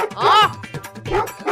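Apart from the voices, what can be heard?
dog barking in a cartoon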